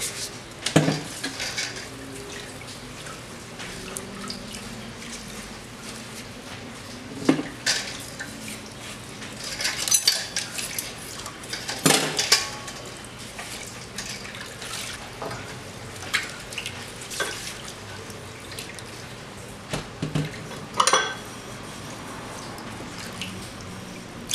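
Cutlery and dishes being washed in a kitchen sink, with water trickling steadily and scattered sharp clinks and clatters of metal and crockery, close and unhurried.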